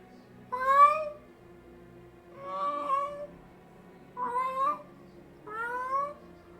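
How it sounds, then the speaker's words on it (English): Several cats meow in turn, four drawn-out, wavering cries spaced a second or two apart, fairly close and clear over a quiet low hum. "You hear cats."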